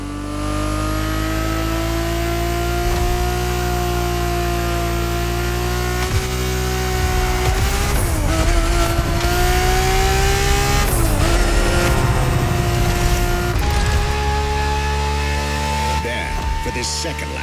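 A Ferrari 365 GTB4 races in the video game The Crew Motorfest, its engine droning loud and continuous with rising and falling revs and repeated tire squeals and skids in the middle stretch, while a voice talks over it.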